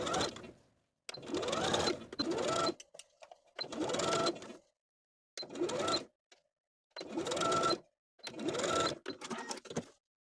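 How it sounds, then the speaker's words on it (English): Sewing machine basting sleeves onto a side back panel of a puff sleeve top, running in about seven short bursts separated by silent pauses, close and clear. "we'll baste these sleeves in place"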